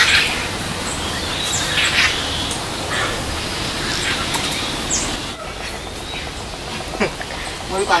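Birds call from an outdoor animal park in Subang, with a few sharp chirps rising over a steady murmur of background voices and ambient noise.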